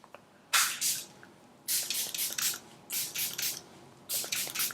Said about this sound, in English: I'm still going to go in with my Charlotte Tilbury spray just because I need my face to last all day